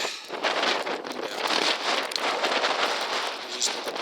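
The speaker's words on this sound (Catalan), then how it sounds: "està fent molt de vent" Strong cold wind roars across a snowy mountain trail on the Faja de las Flores, a steady loud rushing gust buffeting the microphone without a break.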